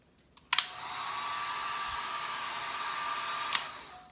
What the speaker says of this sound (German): Das ist der Reiseföhn mit 1500 Watt, der eigentlich richtig gut trocken macht. Und bei 110 Volt hört sich der so.